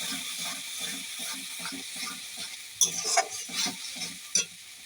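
A spoon scrapes and stirs through crab curry in a pan after garam masala powder goes in, with a soft, moderate sizzle beneath a loose rhythm of stirring strokes and a few sharper clinks.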